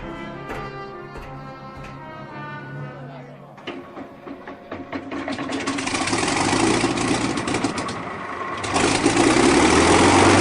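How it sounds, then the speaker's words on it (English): A ship's starboard engine starts up and builds into a loud, steady mechanical roar that swells over several seconds, following a stretch of tonal background music. "Fire up the starboard engine."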